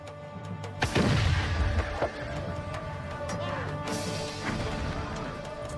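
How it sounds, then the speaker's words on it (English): Artillery pounds the walls of Constantinople in a heavy bombardment, with loud booming crashes and impacts, one big blast early and another later, ringing over a continuous rumbling, dramatized bed. "braced for the greatest bombardment the history of warfare had ever known"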